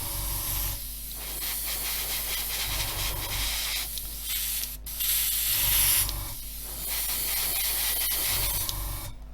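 An airbrush sprays thinned model paint onto an Airfix 1/24 F6F-5 Hellcat kit, giving a steady close hiss in several long bursts with brief pauses and a low compressor hum running underneath throughout.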